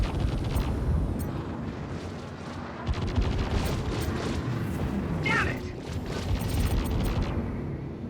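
Missile launch and explosive blasts in Star Citizen space combat, a loud, dense roar of booms and rumbling fire that runs through the whole stretch, with a sharp burst of impacts midway.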